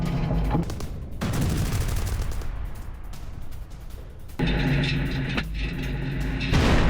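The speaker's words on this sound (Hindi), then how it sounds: "मरिंका में रूसी T-90 टैंक ने बरसाए गोले।" Russian T-90 tank firing shells in Marinka during combat: loud, sustained booming and rumbling blasts with heavy low-end crashes, a dip in intensity midway, then renewed heavy fire.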